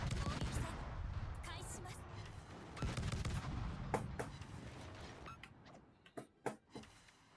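Ship guns firing in World of Warships make a series of sharp booming shots over a rumbling background, with several crisp blasts standing out near the end.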